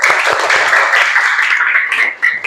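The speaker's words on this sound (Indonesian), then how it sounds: "Tepuk tangan buat Gus Wim." Applause from a classroom of children after a song, brisk clapping from a small group that stays fairly close and even, then thins briefly near the end before picking up again.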